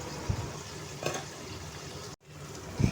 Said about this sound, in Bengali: এবার আগের থেকে ভেজে রাখা আলু দিয়ে ভালো করে কষিয়ে নেব।